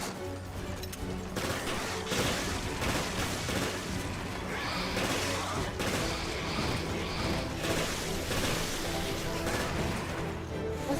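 Gunfire from the video game Resident Evil Revelations, dense shots and booms layered over steady game music and effects throughout, loud and continuous with no clear gaps.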